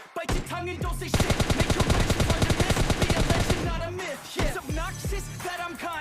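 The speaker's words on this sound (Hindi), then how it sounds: "मेरा टीममेट वहाँ पे फायर कर लेता है तो फिर हम भी कर देते हैं" Rapid automatic gunfire in the mobile battle-royale game PUBG Lite, a loud sustained burst of repeated shots lasting a few seconds, with scattered single shots and game sounds before and after.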